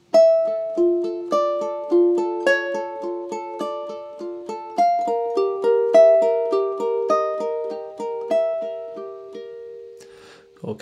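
Ukulele picks out a two-measure passage of a theme from The Legend of Zelda, bright plucked notes in a steady flowing rhythm, close and clear, played alone.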